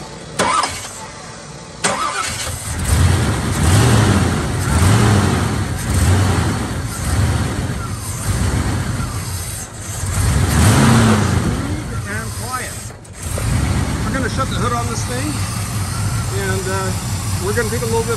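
A 1977 Chevrolet C10 with a 454 V8 cranks and fires up, then settles into a loud, deep, lumpy idle with occasional revs, heard up close while people talk over it.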